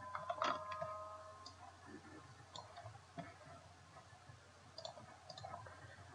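A computer mouse clicks softly while a social media post is browsed, giving a few faint, scattered ticks with quiet gaps between them and no talk.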